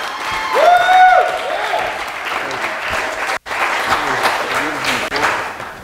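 A church congregation claps and cheers, a lively mix of applause with whoops and raised voices, including a brief sung or shouted tone early on, and a short break in the middle before the clapping resumes.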